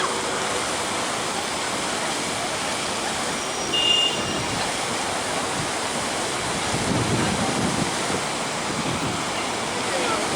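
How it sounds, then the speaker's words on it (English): A working fountain in Rossio Square, Lisbon splashes in a steady, dense broadband rush that fills the whole stretch, close and constant with small swells and no pauses. "There are two fountains on either side. One is working and one is not working."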